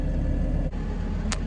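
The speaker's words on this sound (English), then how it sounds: "And we're using a 331G skid steer" A 331G skid steer runs steadily close by while loading lime, its engine giving a loud continuous drone with one brief dip partway through.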